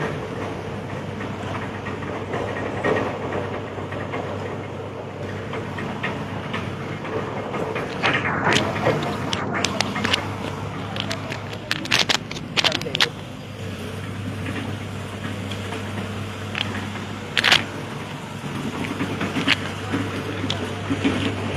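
Night road digging work on Sheikh Idgah road in Sylhet, Bangladesh, heard as a continuous rumble of heavy machinery with scattered sharp clanks and scraping bursts, plus some background voices.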